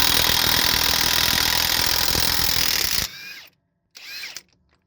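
A power tool spins off the pinion yoke nut on a Freightliner Cascadia truck, a loud steady whir for about three seconds, then quiet with two brief mechanical bursts.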